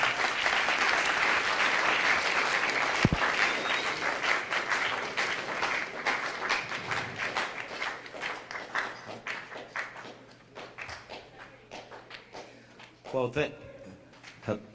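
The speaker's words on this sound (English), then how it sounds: "Give yourself a hand clap." A school audience of students claps at an academy assembly, loud sustained applause that gradually fades into scattered claps, with a voice emerging at the end.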